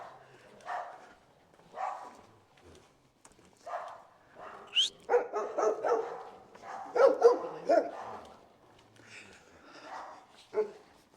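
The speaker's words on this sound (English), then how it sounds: "The dogs are going crazy." Several dogs bark in a neighbourhood, scattered yips and bow-wows at middle distance, fairly faint, with some outdoor noise between the bursts.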